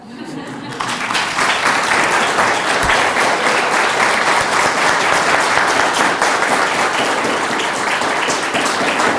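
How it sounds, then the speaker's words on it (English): A crowd at a college faculty, staff and student awards ceremony breaks into enthusiastic applause that swells quickly and sustains loud, dense clapping for about nine seconds, with some voices in the mix. "please help me in giving her the most enthusiastic applause you can have today"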